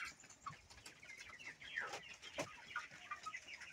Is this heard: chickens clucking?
yes